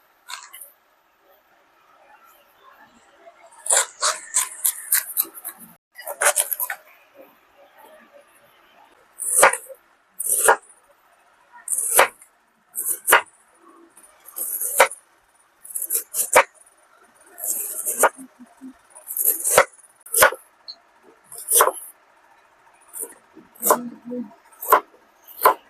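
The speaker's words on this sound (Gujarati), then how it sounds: "તો આપણે આનું હવે કટિંગ કરી લઈશું। કોબીનું કટિંગ કરીશું।" A knife chopping a one-kilo head of cabbage on a board for samosa filling, giving bursts of quick, sharp near cuts in an irregular rhythm with short pauses between runs.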